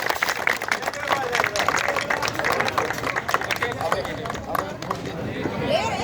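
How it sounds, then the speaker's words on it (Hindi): An audience at a Holi song honouring event claps to welcome a dholak player, producing dense, continuous applause with a crowd murmur while someone speaks over it. "ढोलक वादक भाई प्रिय भतीजे सुरेंद्र सिंह कुशवाहा, जोरदार तालियों के साथ इनका स्वागत करें"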